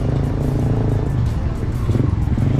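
Motorized tricycle rumbling past up close on a street, a loud, continuous low engine drone with a rough, pulsing texture that holds steady throughout.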